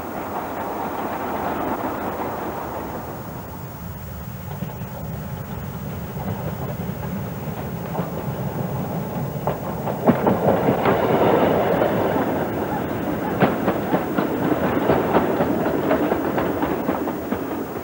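Slate wagons roll down a rail line with a steady rolling clatter and occasional sharp metallic clicks, continuous and fairly close throughout.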